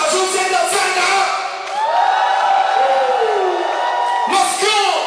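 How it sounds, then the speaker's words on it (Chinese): Crowd at a breakdance show in China cheering loudly with whoops and yells, a sustained roar that dips briefly and then surges again, with voices shouting over it. "我们的老规矩，最大的掌声现在在哪儿"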